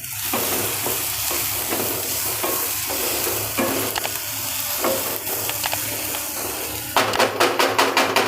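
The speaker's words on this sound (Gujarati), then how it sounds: "કાંદાને ચડતા વાર ન લાગે વચ્ચે વચ્ચે આમ હલાવતું રહેવાનું" Onions fry in a pan for a Gujarati malai kanda shaak, with a steady sizzle throughout and a spoon stirring and scraping now and then, then a burst of sharp rhythmic scrapes near the end.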